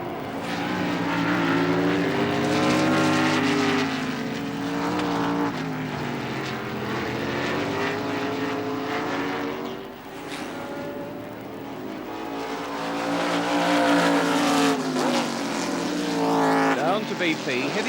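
Formula 5000 race cars from the 1979 Rothmans Series scream around Oran Park, their high-revving engines rising and falling through the gears and bends while a commentator talks over the loud, continuous roar.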